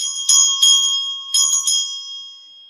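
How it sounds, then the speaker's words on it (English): A small silver bell ornament from a bell collection rings clearly in four bright, quick strikes in two pairs, each leaving a sustained high metallic tone that fades slowly, with no talking. "You can just grab a silver bell ornament"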